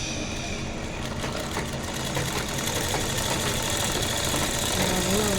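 A sewing machine stitches a boat-neck blouse with a steady mechanical whir and rapid needle chatter that runs unbroken throughout, near and moderately loud, with no voice over it.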